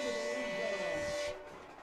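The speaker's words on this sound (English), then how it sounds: "as they sound their train horns" A train horn sounds in a long, steady blast at a high school football game after an OCS Saints touchdown against Kellyville, holding for just over a second before cutting off and leaving crowd noise.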